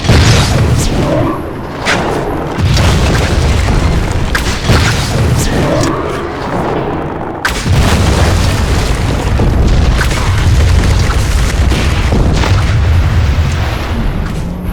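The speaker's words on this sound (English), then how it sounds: "Find catapults! Fire these again!" Catapults firing during a siege battle in The Lord of the Rings: The Return of the King video game: repeated heavy booms and explosive impacts over a dense roar of combat, with voices shouting in the mix.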